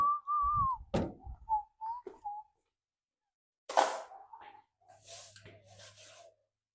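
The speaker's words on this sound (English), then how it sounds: "Wow, that was a loud whistle." A clear, high whistled tune plays in short phrases, with bright sustained notes broken by pauses and a few soft knocks and rustles.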